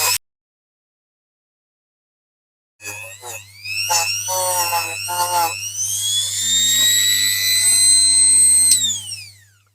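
High-pitched rotary polishing tool whirring against a diecast Corgi Toys Commer truck, starting after a near-silent gap, with rising and falling whine in bursts and then a sustained tone for several seconds, with a steady low hum underneath.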